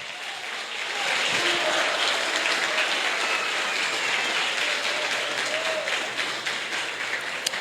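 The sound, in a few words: church congregation applauding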